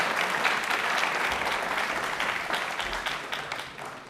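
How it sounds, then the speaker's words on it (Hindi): A studio audience on a televised general-knowledge program applauds a guest, a dense, loud wash of clapping that holds steady and then slowly tapers off. "एक बार तालियां हो जाए नेहा मैम के लिए जोरदार"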